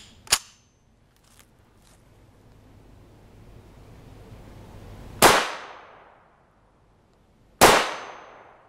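Three loud rifle shots are fired outdoors from an FN PS90 with a 16-inch barrel at a hard armor plate. The first crack is followed by two heavier booming reports spaced a few seconds apart, each ringing out and fading.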